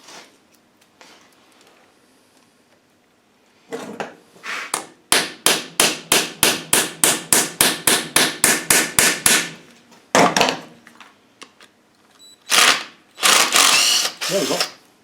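Rapid, evenly spaced metallic hammer blows ring out in a long burst of about fifteen strikes, followed by a few heavier scattered knocks, as tight parts are hammered out of an R380 gearbox extension housing.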